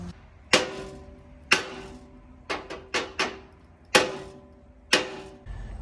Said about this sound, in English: we're gonna try and get this bushing all the way on by smacking the arm